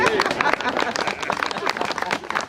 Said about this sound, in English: So I had to come down and give him a little round of applause.